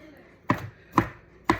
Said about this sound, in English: here I am chopping the broccoli